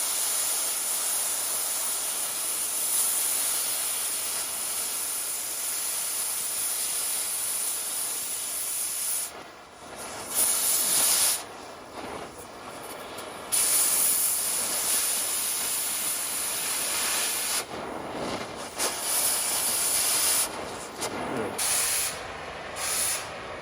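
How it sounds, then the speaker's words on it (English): Metal is ground off a Suzuki Samurai front axle: a steady, harsh grinding hiss runs almost continuously, broken by brief pauses and restarts in the second half, with no clear speech. "Got everything ground off for the front axle there"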